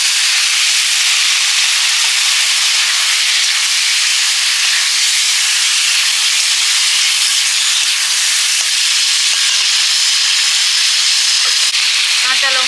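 Water poured with salt and cumin into a hot pan while cooking fish curry with kohlrabi sends up a loud, steady sizzling hiss that holds throughout, with a brief bubbling flutter near the end.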